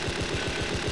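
Tank engine running in Battlefield 2, a loud, steady close-up rumble with a fast regular pulsing throb throughout.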